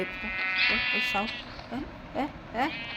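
A lamb and a sheep bleat in the Minecraft video game, several short wavering calls in a row, while someone talks over them.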